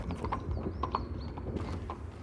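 Horse hooves clip-clop in a steady, lively rhythm on a hard surface, close and clear, with a faint high whinny-like tone drifting over the beat and no talking.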